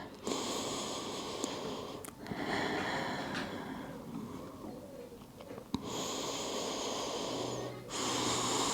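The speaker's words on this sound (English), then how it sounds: "Take 2 more breaths all the way in" Slow, deep breaths in and out during a standing side-body yoga stretch, each long airy inhale and exhale close and steady with faint background hiss, no talking.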